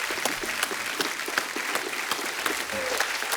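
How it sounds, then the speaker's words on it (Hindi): Studio audience applause at a comedy talk show taping, steady dense clapping throughout, loud and continuous with no voices on top. "एक बार जोरदार तालियां हो जाएं।"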